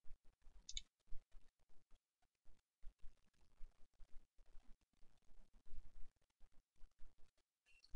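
Computer mouse buttons clicked repeatedly at a desk during web form-building work: a quiet, irregular run of short, dry clicks and taps, some in quick pairs, close to the microphone with no talking.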